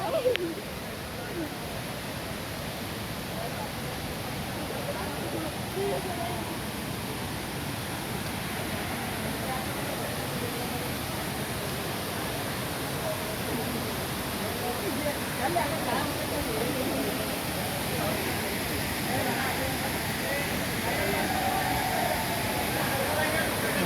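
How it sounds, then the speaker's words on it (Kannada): Jari Falls in Chikmagalur, heard up close as a steady, loud, broadband roar of falling water that runs without a break. Faint voices sit under the rush. "ಚಿಕ್ಕಮಗಳೂರಲ್ಲಿ ಇರತಕ್ಕಂಥ ಜರಿ ಫಾಲ್ಸ್ ಇದು."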